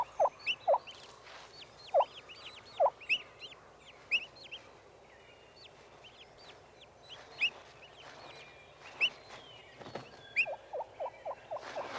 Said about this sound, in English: The hen moves a few more feet and gives the assembly call